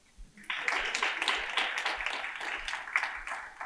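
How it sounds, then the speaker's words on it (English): After a brief quiet moment, a lecture audience launches into a final round of applause for the facilitators, many hands clapping in a full, steady burst until the end. "And the last and final clap for the facilitators"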